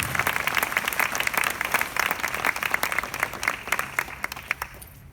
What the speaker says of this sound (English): I'd like to give a round of applause, please, for all of the people that were engaged with me.